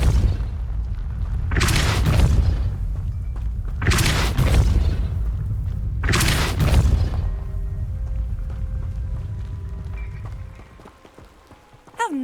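Three Depulso spell blasts cast in the video game Hogwarts Legacy, each a loud broadband whoosh-burst spaced about two seconds apart, followed by a quieter stretch with faint tonal game ambience.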